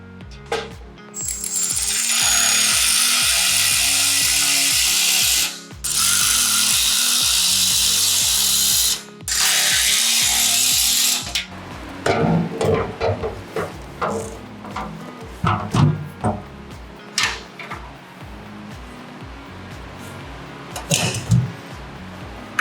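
Power tools and hand tools work on the bolts of a jerry can holder during a Dobinsons rear bumper install on a 70 Series Land Cruiser Prado, with loud sustained drill bursts followed by irregular ratcheting clicks, clinks and knocks close by.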